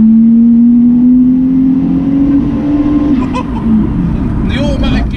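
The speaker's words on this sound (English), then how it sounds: "This car sounds absolutely incredible." A 300 BHP Toyota Soarer with an automatic gearbox and aftermarket exhaust drones loudly and steadily from inside the car while it drives, its pitch climbing slowly, with brief voices near the end.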